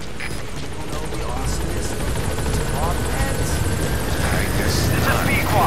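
A support helicopter arrives in Metal Gear Solid 5: The Phantom Pain, its rotor chop loud and close, thudding rhythmically and building steadily in volume as it approaches the landing zone, with chatter over it.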